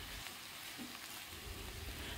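Bacang filling with oyster sauce is stirred in a hot pan, giving a steady, close sizzle with faint scraping movements.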